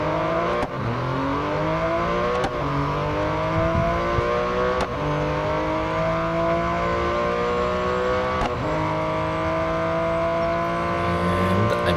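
A Porsche 959 races in Real Racing 3, its engine droning loud and continuous as it climbs through the revs, with sharp gear shifts breaking the pitch every couple of seconds.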